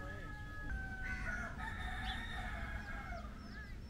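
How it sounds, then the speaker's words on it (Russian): Roosters crowing at a resort in Eilat, Israel, with drawn-out calls over constant low background noise and a few faint chirps. "Вы слышите этих петухов?"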